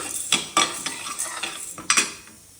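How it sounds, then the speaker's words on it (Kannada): Chana dal roasting on a low flame sounds as a close run of spoon scrapes and clinks against the pan, with soft rattling between about six sharp strokes. "ಕಡಲೆಬೇಳೆ ಈಗ ಚೆನ್ನಾಗಿ ಫ್ರೈ ಮಾಡ್ಕೊಳ್ಳೋಣ. ನೋಡಿ, ಲೋ ಫ್ಲೇಮಲ್ಲಿಟ್ಟು ಫ್ರೈ ಮಾಡ್ಕೊಳ್ಳಿ."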